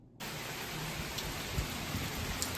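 Steady rain from a September thunderstorm starts abruptly and then holds as an even, hissing wash. Faint soft patters sit within it and no distinct thunder claps stand out.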